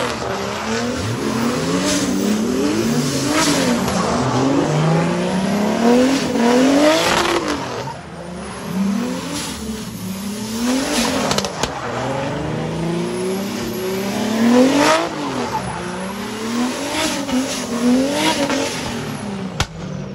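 A modified drift car in a drift battle, its engine revving hard in repeated rising and falling waves while the tires squeal continuously, loud and close for the whole stretch.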